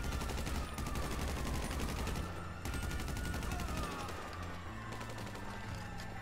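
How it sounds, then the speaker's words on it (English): Sustained gunfire from a GTA 5 survival-mode fight, dense overlapping bursts running continuously and loud with a steady background layer throughout. "Oh shit, I'm getting shot pretty bad."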